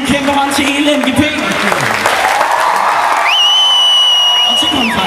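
Festival concert audience at Vig Festival applauding, a dense wash of clapping with some cheering, and an amplified voice speaking over the crowd in the second half.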